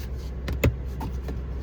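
The powered side mirror of a 2023 Audi RS Q8 Quattro folds out and extends, a brief soft electric motor whir with a faint click near the middle, heard up close inside the car.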